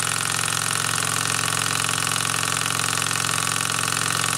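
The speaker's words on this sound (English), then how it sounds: "this engine just keep going," A small engine on a Peanut Rider machine runs on continuously at a steady, loud buzzing drone with no change in pace, and no voices are heard.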